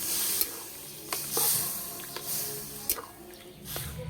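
Water poured into a hot pan of potato curry gives a soft hiss and sizzle with a few brief splashes, close and steady, with faint kitchen background.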